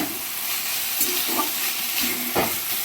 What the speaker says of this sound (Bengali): এবার কষে আমি আলুগুলো দিয়ে দিলাম এবার হলুদ লবণ দিয়ে দিলাম পরিমাণ মতন দিয়ে ভালো করে এটা কষে নিচ্ছি